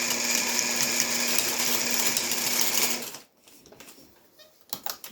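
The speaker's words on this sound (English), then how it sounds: "I just pull it tight and sew it." A mid-1950s Singer sewing machine stitches fabric steadily in a fast, even mechanical rhythm for about three seconds, then stops, leaving faint handling clicks and rustles.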